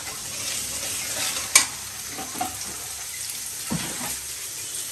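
Food frying in a pan on a home kitchen stove, giving a continuous sizzle with scattered clinks and scraping stirs, one sharper knock among them, close by and with no talking.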